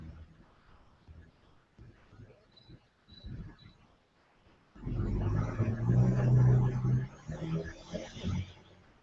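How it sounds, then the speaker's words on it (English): Trucks and other vehicles pass outside, starting with faint low rumbles under quiet talk, then building into a loud, heavy rumble in the second half. A faint chirping, like crickets, sounds early on. "No, you hear trucks, vehicles."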